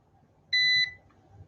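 A continuity tester checks cables while an adaptor is being built for a Fluke QA ES III ESU analyzer, giving one clear, steady electronic beep of about a third of a second over faint background hum.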